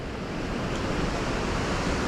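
Thornton Force waterfall, a steady roar of rushing water filling the scene, loud and continuous, with no voices.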